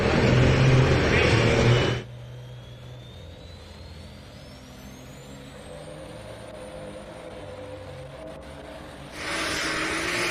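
A pulling tractor roars down the track at a national tractor pulling championship, loud at the start, then dropping to a distant whine with a rising tone before the full roar returns near the end.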